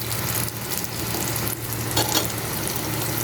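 Lachcha paratha frying in oil in a pan, a dense, steady sizzle close by with small crackling bursts, continuous throughout and with no talking.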